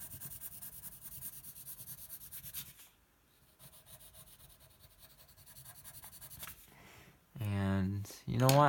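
Graphite pencil shading a Darth Vader helmet drawing on paper gives a steady close scratchy rubbing with short pauses, then a voice talks briefly at the end.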